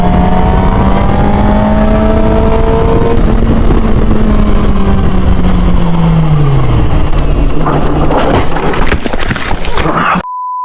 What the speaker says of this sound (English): a biker filmed his first motorcycle vlog. But he didn't know that the vlog will get ruined by a crash.